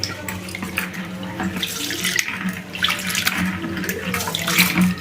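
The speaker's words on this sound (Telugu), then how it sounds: "బియ్యాన్ని రెండు మూడు సార్లు మాత్రము బియ్యాన్ని కడుక్కోవాలి" Rice being washed by hand in water in a home kitchen for idli batter, with steady close splashing and swishing water throughout.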